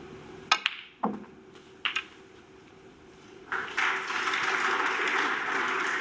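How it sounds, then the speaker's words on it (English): A few isolated claps and clicks from a snooker crowd, then a light smattering of applause rising and holding steadily at moderate distance in an indoor arena. "Smattering of fake applause just means the frame is won behind snookers."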